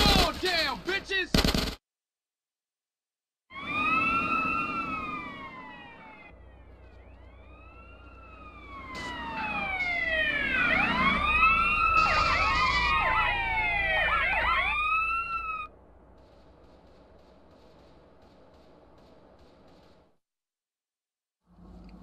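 Police sirens wail in GTA San Andreas, several overlapping rising and falling siren tones that build to a dense loud cluster and then cut off, with short bursts of other game sounds before and after.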